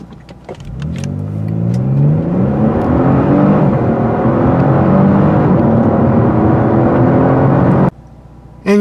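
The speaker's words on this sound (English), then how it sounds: "This Turbo 6 engine is a real beast. Puts out some great 0 to 60 times." A 2021 Genesis G70 turbocharged six-cylinder engine accelerates hard in Sport Plus mode, its loud revving tone sweeping upward through several gear changes for about seven seconds before cutting off abruptly.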